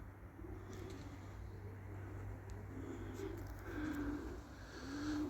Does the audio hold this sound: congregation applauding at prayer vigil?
no